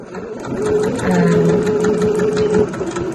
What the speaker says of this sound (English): I've just got a stitch going along the edge just to close that hole